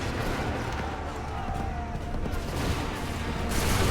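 Musket volley fired on command in Assassin's Creed III Remastered: a dense, sustained crackle of massed gunfire with a rumbling low end, steady and loud throughout, with battlefield voices mixed in.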